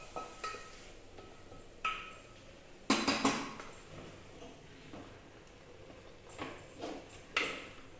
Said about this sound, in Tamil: இப்போ வந்து கீரை நல்லா கடைஞ்சி எடுத்துருவாங்க.